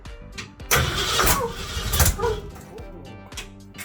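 A 1936 Divco bread truck with a swapped-in V8 cranks and starts after years unused, the engine catching and running rough and loud with uneven surges, then settling into a choppy idle.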